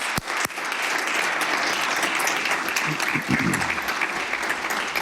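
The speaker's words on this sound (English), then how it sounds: "If we could all give a round of applause and welcome them to the House, please." A room of legislators in the House of Assembly applauding, a steady dense wash of clapping that holds at full strength for the whole stretch without letting up.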